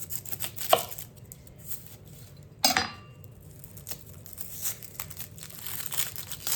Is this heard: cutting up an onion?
yes